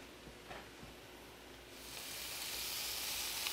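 Kielbasa sizzles as it goes face down into a hot cast iron pan, a faint hiss that swells into a steady, louder bright sizzle partway through and holds.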